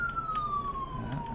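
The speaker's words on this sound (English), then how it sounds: "That's a siren going by in real life." A siren wails steadily in the distance, its tone slowly sliding downward as the vehicle passes, over low background rumble.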